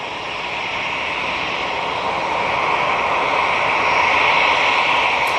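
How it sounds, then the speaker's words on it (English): An Airbus A320neo jet at Manchester Airport gives off a broad, steady roar that builds slowly in loudness, heard clearly and alone without talk. "Off to ski Athos with this A320neo."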